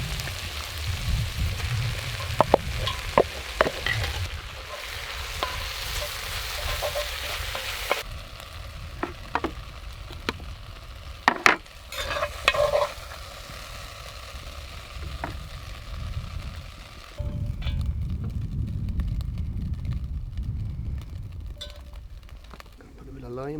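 Garlic and rice fry in a pan over a campfire at a lakeside camp, a steady close sizzle with scraping stirs and a few sharp clicks, the hiss swelling louder toward the end while someone talks in between.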